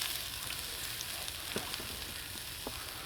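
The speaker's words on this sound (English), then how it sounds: "It's like frying them in the clarified butter." Shallot frying in clarified butter on a Bushbox stove gives a close, continuous crackling sizzle with small pops scattered through it and no voices.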